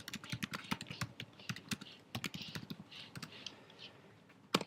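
Someone types on a computer keyboard, a quick run of close, crisp key clicks in bursts with short pauses, ending with a single sharper keystroke.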